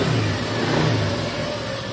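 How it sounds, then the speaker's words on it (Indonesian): A Honda Scoopy scooter's engine keeps running with the ignition switched off, giving a steady, close mid-pitched engine drone with a faint rise and fall and no pauses. "Mati kontak tapi motornya hidup cok."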